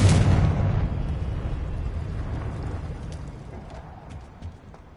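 An explosive Confringo fire spell in Hogwarts Legacy, a heavy blast at the start that decays into a long, fading rumble with faint crackling debris afterward, no voices.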